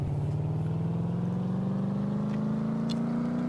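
A car engine held at steady high revs on a dyno during a test run, one continuous loud drone whose pitch climbs slowly and evenly throughout.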